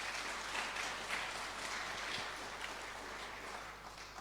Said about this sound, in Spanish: Denle un aplauso fuerte a nuestro Señor Jesucristo.